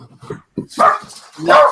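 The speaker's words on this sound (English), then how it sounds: "my dogs are barking here" Dogs bark indoors close by, a few sharp yips followed by two loud, full barks with short pauses between them.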